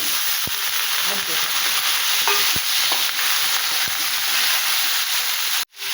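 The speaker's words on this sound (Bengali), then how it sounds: "দেখো বন্ধুরা ভাজা চলছে এই যে আলু আর ওলকপি ভালো করে কষু নিচ্ছি" Potatoes and kohlrabi fry in a pan with cumin, onion and chilli, giving a loud, steady close-up sizzle broken by occasional stirring knocks.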